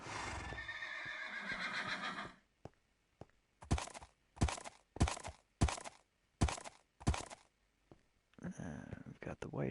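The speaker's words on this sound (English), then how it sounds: "We've got the white horses" Minecraft horses at a stable, a short burst of whinnying followed by a regular series of sharp clip-clop hoof steps, then more neighing at the end, close and distinct.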